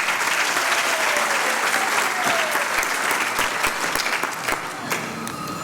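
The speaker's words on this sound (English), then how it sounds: "yet another round of applause" A large audience at a university graduation ceremony applauds loudly and steadily for the whole stretch. It is a dense, continuous roar of clapping with a faint murmur of crowd underneath.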